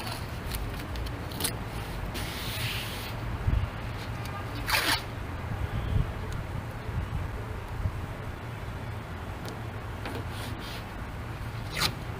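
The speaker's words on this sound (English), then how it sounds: "I think I've had this tape for 20 years, so it's not coming off the reel all that well" Twenty-year-old tape sticks as it is peeled off its reel during a gelcoat repair, giving a continuous close rasping, crackling rip with a few sharper tearing bursts.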